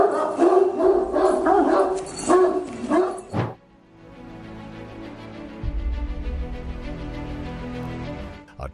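Dogs bark and yip close by in a front yard as they chase a moose, busy overlapping barks for the first few seconds, then a quieter stretch of low rumbling and outdoor noise.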